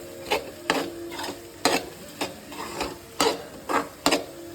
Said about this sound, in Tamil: சிம்மில் ஓட்டு 2 வாட்டி இடையில கிண்டி விட்டுற பாருங்கள்